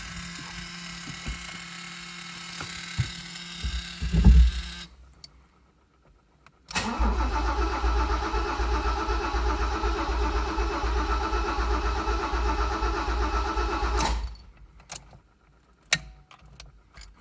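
Alfa Romeo GTV6 after an L-Jet fuel injection conversion, cranking over on the starter in a sustained loud grinding run of about seven seconds, preceded by keys rattling and a short burst, then falling silent with a few clicks.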